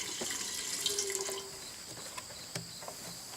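Water runs into a jar holding a small bug, a faint trickle with a few light splashes and drips at low level and no voices heard.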